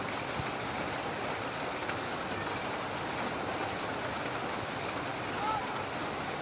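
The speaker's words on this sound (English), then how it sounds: "today is the first time when it is raining so heavily at the Dilir Stadium today" Heavy rain pours down at a football stadium during a match, a dense, even roar of broadband hiss that stays constant throughout, with faint commentary underneath.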